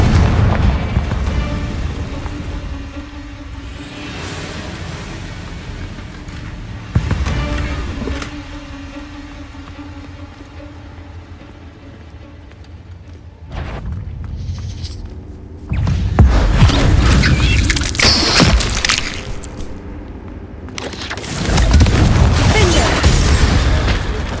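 Confringo fire-spell explosions in the Hogwarts Legacy video game: a run of loud, deep booming blasts in separate bursts, some rumbling on for several seconds, with quieter gaps between them.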